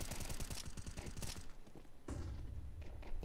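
Rattling M4 rifle fire from a Counter-Strike match comes in quick repeated shots at moderate distance, first a rapid string of cracks, then a thud and scattered fainter shots, with faint background voices.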